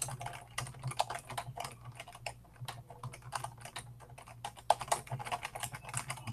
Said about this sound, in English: you type it down